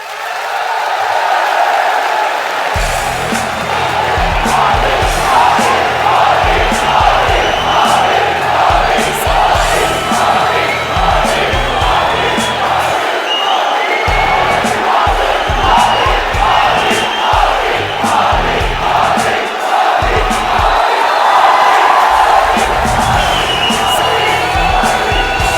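A large crowd at a rally for Narendra Modi cheers and shouts continuously in a loud, dense roar, with bursts of whooping and clapping rising and falling.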